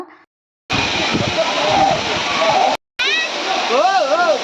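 Water falling steadily onto rocks near Tirumala, a loud, close, continuous rushing and splashing roar that cuts out briefly and returns, with a few higher wavering tones over the top.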